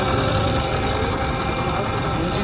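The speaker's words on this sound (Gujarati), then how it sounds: "એન્જિનમાંથી અવાજ આવે છે" A Yamaha motorcycle engine idling in neutral with an abnormal noise, a loud, constant low rumble and vibration held close throughout with no breaks.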